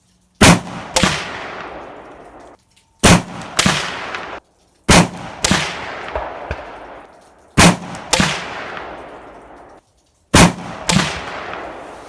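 Five sharp, loud rifle-calibre shots from a PSA AR47 7.62x39 pistol with a 10.5-inch barrel, fired outdoors in fog, spaced a couple of seconds apart, each with a quick echoing tail.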